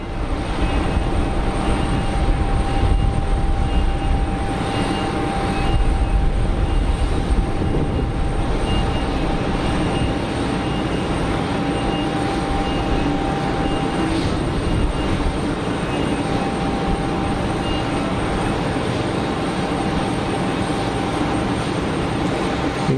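A Swiss Airbus A220 airliner at Geneva Airport produces a loud, continuous jet roar with a thin, sustained high whine running through it, steady throughout.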